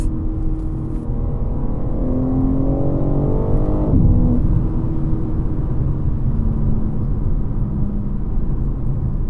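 A 2023 BMW M3 G80 50 Jahre Edition engine note held steady and loud while cornering, with a rising then dipping rev sweep midway through and constant road and tire rumble beneath.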